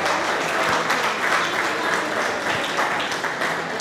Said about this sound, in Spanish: Dele un aplauso al Señor Jesús con todo su corazón